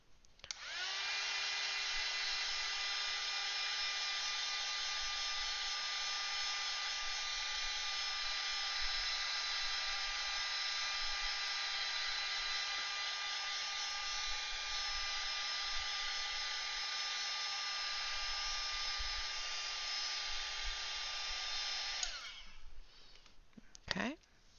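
A hair dryer blows steadily for about twenty seconds, drying an Inktense watercolor background; the loud constant whine starts abruptly and cuts off just as abruptly near the end.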